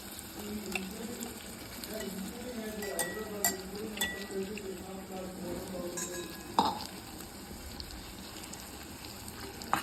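Ground paste being stirred into a sautéing tempering for Manathakalli vatha kuzhambu, a soft steady sizzle with scraping spoon strokes and occasional clinks, moderately close, with faint voices in the background.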